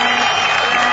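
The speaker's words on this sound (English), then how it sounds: "there's huge applause around the ground as well from all the Pakistan supporters here" Pakistan supporters at a cricket ground against Ireland roar and applaud a century, a dense, loud, continuous wash of crowd noise with clapping blended into the cheering.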